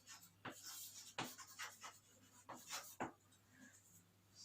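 Marker or chalk writing on a classroom board: several short scratchy strokes in irregular bursts with pauses between, close and fairly quiet, no talking.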